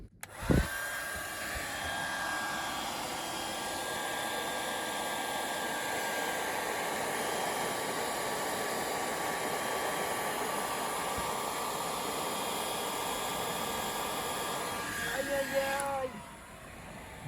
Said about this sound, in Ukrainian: Включаємо фін.